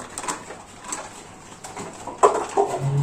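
Soft pigeon coos and rustling in an enclosed space, with a few fuller calls near the end against low background noise.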